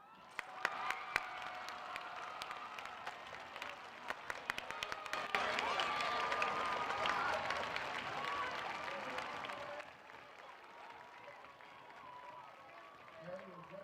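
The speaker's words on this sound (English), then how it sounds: "please give a thunderous round of applause for our 2020 Georgetown High School homecoming king" A stadium crowd at a 2020 Georgetown High School homecoming football game applauds and cheers for the homecoming king, the noise swelling midway and then dropping to a lower murmur with scattered shouts toward the end.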